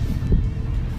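An off-road race car engine drones through a desert qualifying run over tabletop jumps, a steady low rumble with wind buffeting and a brief louder swell in the middle.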